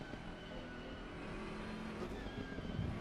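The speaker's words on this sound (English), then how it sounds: "I'm hearing like the car speed up and slow down weirdly" GT3 race car engine from a racing game at Paul Ricard, a steady faint drone that seems to rise and fall in speed, heard alone without talk.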